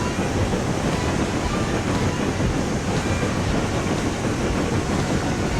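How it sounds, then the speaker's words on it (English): A train in the Railroad Online video game rumbles past in a steady, dense roar of rolling wheels and rail noise, constant and loud throughout with no voices. "You can see a train going past here"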